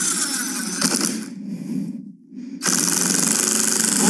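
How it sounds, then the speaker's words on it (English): Power drill boring at an angle into a wood slice for a snowman craft, a steady loud whine that breaks off briefly near the middle, then resumes strongly. "you're going to want to drill in at about a"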